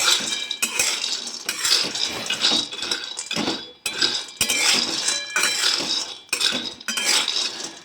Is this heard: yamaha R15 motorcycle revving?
no